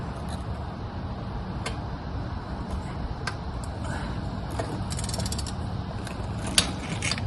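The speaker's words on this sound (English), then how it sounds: "33 foot-pounds. I've already got my torque wrench set." Torque wrench tightening a fastener to 33 foot-pounds during rear differential service on a 2021 Honda Ridgeline, giving faint mechanical clicks and ratcheting over a steady background hum, with one sharp click near the end.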